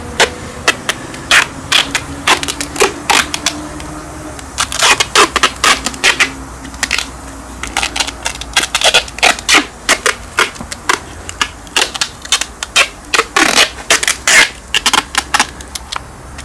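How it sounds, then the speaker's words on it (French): Adhesive tape being wrapped and pressed down over a bandage on a horse's hoof with an abscess, making rapid repeated crackling and tearing bursts in irregular clusters, close and fairly loud, with no talking. "Ok, on rabat bien le scotch."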